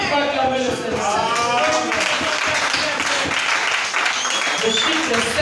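A church congregation bursts into applause to acclaim the Lord, with dense, loud clapping and crowd noise mixed with voices for a few seconds.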